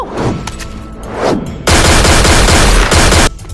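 Rapid automatic gunfire from the Borderlands video game, first in short bursts then a dense, loud sustained volley of shots lasting over a second before cutting off.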